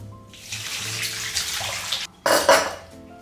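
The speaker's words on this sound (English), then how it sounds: "The first thing I'm gonna do is strain the cashews from the water." Water from soaked cashews pours and splashes steadily through a strainer into a sink, with a brief pause and then a louder gush of draining water.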